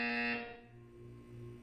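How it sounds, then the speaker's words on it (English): A Portal 2 test-chamber buzzer sounds once, a loud bright harmonic tone that cuts off after a moment and leaves a low hum fading underneath. "When you hear the buzzer, look up at the ceiling."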